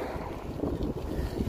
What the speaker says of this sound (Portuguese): Tá ventando um pouco contra, mas é um vento não tão forte